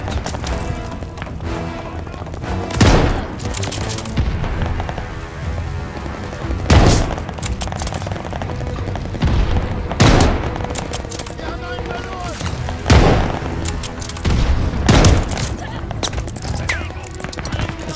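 Sustained machine gun fire from an MG position in the Call of Duty: Vanguard campaign mission The Fourth Reich, steady rattling bursts punctuated by several loud booming impacts, with dense battle noise throughout and no talking.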